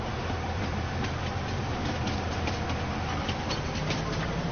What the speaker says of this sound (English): There's a train going uphill.